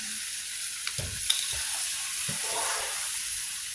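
A pan hisses and sizzles steadily, with a few soft clinks and stirring knocks close by.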